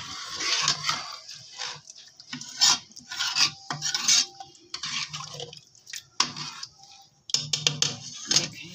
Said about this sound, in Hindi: इन सबको मिक्स करेंगे।